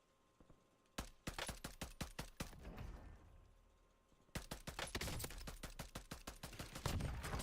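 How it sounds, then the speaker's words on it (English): Rapid bursts of automatic gunfire in a battle royale video game, a loud volley of shots, a brief lull, then another sustained string of fire. "An awful lot of shooting going on behind us."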